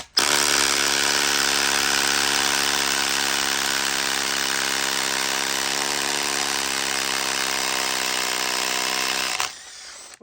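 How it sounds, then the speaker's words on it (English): A Makita drill fitted with an SDS adapter and tungsten bit whines steadily at high pitch for about nine seconds, loud and close, then cuts off abruptly. "whether it will be more quicker, more effective to drill with the SDS adapter"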